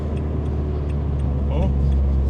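Renault Clio 182 on the Thruxton circuit after losing power on a corner exit: a steady, loud, low engine and road drone that holds its level throughout, with no clear rise in revs.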